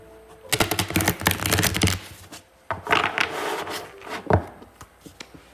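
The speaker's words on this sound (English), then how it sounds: "I go ahead and shuffle live." Tarot cards being shuffled by hand produce brisk riffling bursts, a dense flutter of snapping card edges followed by softer taps and slides, close and fairly quiet.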